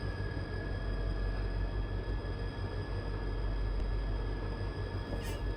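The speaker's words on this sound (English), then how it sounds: "I love the sound set on this locomotive. That 645 or 643 20 cylinder." Low, steady rumble of a Southern Pacific 20-cylinder diesel locomotive (645-series) idling or working on Donner Pass in a train simulator, a continuous droning bed of sound with a brief hiss near the end.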